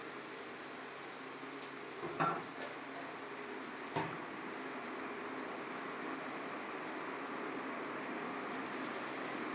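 Crushed ginger, green chili and black cumin fry in oil in a pan with a faint, steady sizzling hiss, broken by two brief utensil clinks near the start.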